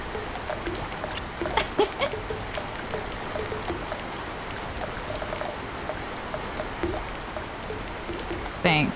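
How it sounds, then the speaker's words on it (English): Steady rain falls in a Genshin game scene, a continuous soft patter with scattered drops heard at moderate level throughout, with a brief louder burst at the very end. "Oh, it's raining now."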